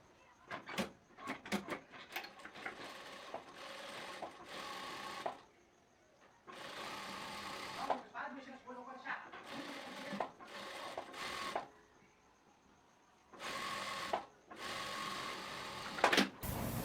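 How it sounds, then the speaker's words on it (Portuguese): Sewing machine stitching a seam on wide-leg trousers, several bursts of fast rhythmic needle clatter separated by short pauses and handling noises, close and clear, no speech. "a gente vai fazer a costurinha aqui e depois vai entrar o elástico aqui dentro"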